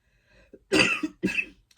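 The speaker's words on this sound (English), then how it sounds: "there goes that nasty cough" A single harsh cough bursts out close by, followed quickly by a second, shorter cough.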